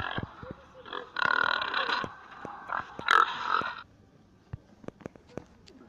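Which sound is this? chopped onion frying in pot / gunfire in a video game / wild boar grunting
wild boar grunting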